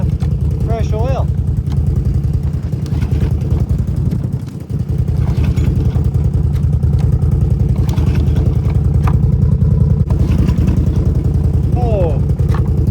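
A tow-behind brush mower's small engine, freshly filled with oil, runs steadily at a loud, constant chugging idle, with brief dips in level and a person talking over it.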